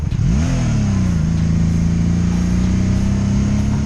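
A 2002 Honda Magna VF750C motorcycle engine runs loud and close, rising briefly in pitch then settling into a steady, sustained drone while the rider coasts off the throttle.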